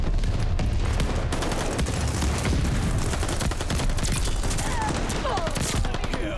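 Sustained rapid gunfire from an MP40 submachine gun in Call of Duty: Vanguard multiplayer, with dense bursts and explosions running throughout at steady loud volume.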